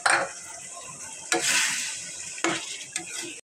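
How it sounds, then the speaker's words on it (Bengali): Chillies coated in salt and spices sizzle as they are stir-fried in oil in a pan, a steady hiss broken by a few sharp scraping stir strokes. "মরিচগুলো কষে নিচ্ছি।"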